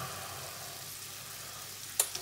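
Soft onions frying in a pot of lentil and bacon soup after about ten minutes of cooking, a steady quiet sizzle ending with a few sharp clinks of stirring.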